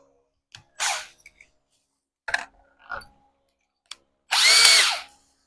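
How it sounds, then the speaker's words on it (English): Cordless power drill driving into wood while a chick brooder box is built, several short bursts of whirring followed by one longer, louder run, close and alone with quiet pauses between. "I drilled that too far over."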